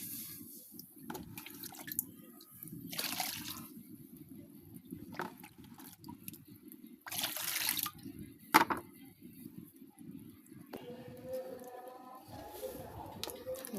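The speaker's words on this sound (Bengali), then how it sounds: "এখন ডালের ভেতরে পরিমাণ মতো পানি দিয়ে দিব" Water trickles and splashes into ground lentils in a cooking pan, in intermittent bursts of pouring and dripping with quiet gaps and a few sharper clinks.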